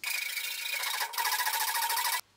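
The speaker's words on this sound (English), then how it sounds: "So we now just need to file that until it is square." A steady metal file rasps back and forth in quick, even strokes on a square hole in a metal monitor wall bracket, close and continuous, with a brief hitch midway before stopping abruptly.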